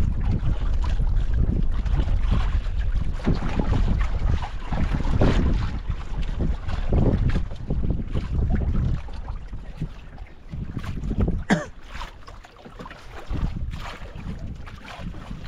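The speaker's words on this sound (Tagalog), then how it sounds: "Lalong lumakas ang hangin ah." Strong wind roars across the microphone out on a boat, a loud continuous gusting rush that swells and eases over about fifteen seconds, with no talk.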